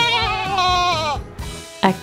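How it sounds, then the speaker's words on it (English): A baby goat, a kid, gives a single wavering bleat, loud and close, followed by a short second cry. "A baby goat is called a kid."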